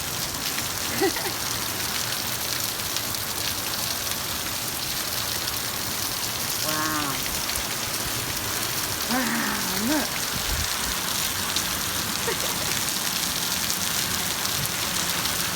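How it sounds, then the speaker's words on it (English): Heavy summer rain in the Mojave Desert pours in a loud, steady hiss across the whole stretch, with a few brief exclaiming voices rising over it. "just enjoy it, because rain is lovely"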